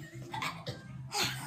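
A few short, quiet coughs sound close by, separated by brief pauses, with no talking.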